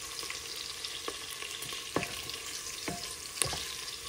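Onions frying in a pressure cooker, a steady soft sizzle with a few sharper crackles and pops throughout, close by with no talking.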